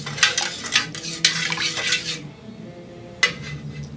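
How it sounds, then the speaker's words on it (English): Melted soy candle wax being stirred in a container, a series of close scraping, clinking utensil strokes for two seconds, then a pause and one more scrape. "Give it another stir."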